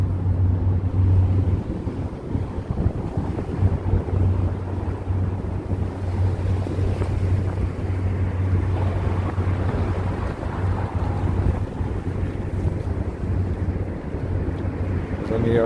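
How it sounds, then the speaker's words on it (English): A New York City ferry on the river rumbles with a steady low engine drone under wind buffeting the microphone and the wash of water, loud and continuous throughout. "the New York City ferry"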